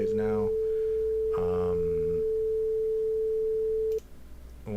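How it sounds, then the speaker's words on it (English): A steady pure sine tone, generated by a VST audio plugin, holds for about four seconds, with brief synth-like voiced sounds over it at the start and end. "Hello World is generating an actual sine wave now."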